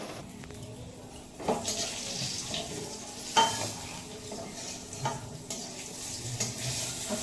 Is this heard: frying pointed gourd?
yes